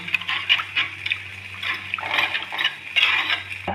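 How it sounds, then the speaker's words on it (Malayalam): Water splashes and trickles into a cooking pot for a fish curry, with light clinks of metal against cookware. "കുറച്ച് വെള്ളം നമുക്ക് ആവശ്യത്തിന് വെള്ളം ഒഴിച്ചു കൊടുക്കാം"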